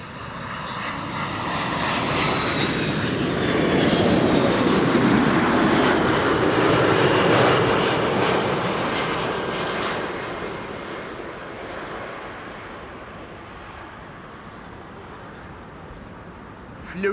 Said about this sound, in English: Delta Airlines Flight 236, which is arriving from Tampa in Florida. That's an A330 Neo.